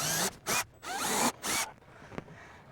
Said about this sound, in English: now I'm going to make just some short, tiny little guide holes with my drill.